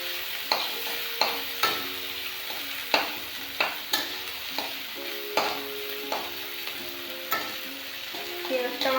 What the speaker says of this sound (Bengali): পেঁয়াজটা আমি হালকা ভেজে নেব।